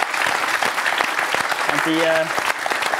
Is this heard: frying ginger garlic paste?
no